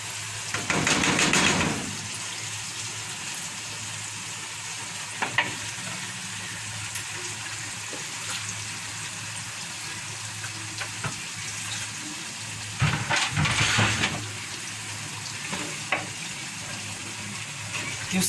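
Meat being stirred back into a pot of okra soup, with two louder bursts of scraping and sizzling near the start and again around the middle over a steady low kitchen hum.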